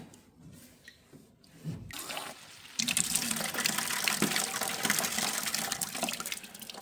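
Water gushing from a garden hose, starting with faint trickles and then a loud, steady rushing spray close by, with no talk.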